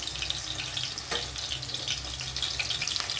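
Small onions (shallots) sautéing in oil with a soft steady hiss and sizzle, quiet and close, with a brief clatter near the middle.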